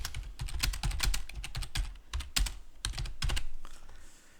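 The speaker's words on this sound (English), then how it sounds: "let's say that I actually typed something" Keys clatter on a computer keyboard as a line is typed into a terminal, a close, quick run of clicks in uneven bursts with brief pauses between words.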